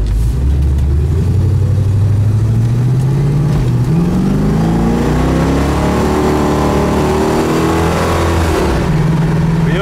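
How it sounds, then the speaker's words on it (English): A 1969 Mercury Cougar convertible with a 351 Windsor V8 and four-barrel carburetor accelerates hard, its loud engine note climbing steadily in pitch through repeated upshifts, close and continuous with no talk. "this four barrel with the kick down working properly really set you back."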